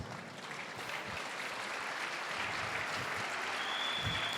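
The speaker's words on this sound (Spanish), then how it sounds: "Den una ofrenda de palmas a Jesús." Steady applause from a church congregation fills the space, a dense even wash of clapping at moderate level that holds throughout without any talk.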